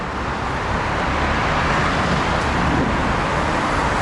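Heavy city traffic in Tbilisi, Georgia pours past in a loud, dense, continuous roar of cars and buses with no pauses and no voices.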